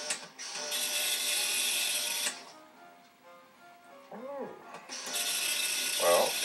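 A Comrex CR-220 dot matrix printer running its self-test buzzes and rattles in loud bursts, pausing in the middle while a voice talks briefly, then resuming its harsh mechanical chatter.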